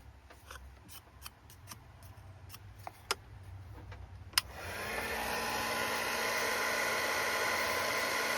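A heat tool warming encaustic wax artwork switches on partway through with a sudden click, then holds a steady, close airy blowing hiss, after a stretch of quiet room tone broken by scattered sharp ticks and taps.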